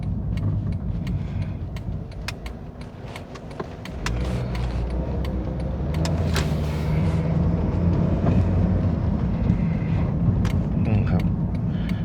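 A 2013 Honda Jazz 1.5S on the road through corners, heard from inside as a steady engine and road drone that swells louder midway, with someone talking over it.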